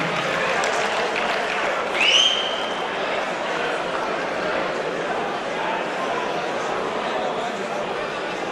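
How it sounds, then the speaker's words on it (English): Crowd at a fight event applauds for a warrior from Bangkok, a dense, steady wash of clapping and chatter with a short whistle-like cheer early on, loud and sustained throughout. "How about a big round of applause for a great warrior from Bangkok, Ploysuay."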